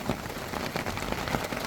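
Rain falls on a shelter during a road trip in the Provence-Alpes-Côte d'Azur region, a close, even hiss of drops with faint patters, brief and steady with no voices.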